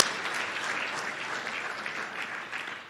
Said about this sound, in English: I think we still give Lisa a big clap.